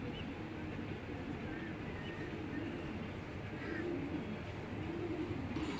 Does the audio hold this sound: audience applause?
no